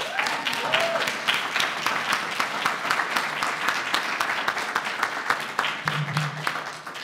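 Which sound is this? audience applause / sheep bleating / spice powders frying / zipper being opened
audience applause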